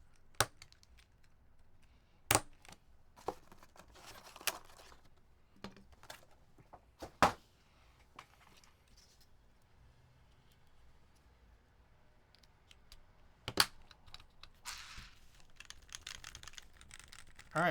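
Keystrokes clack on a custom mechanical keyboard fitted with GMK Bread keycaps, with dandelion blank keycaps and yellow cases in the build, a sparse run of sharp taps with a few louder hits, close and clear without voices.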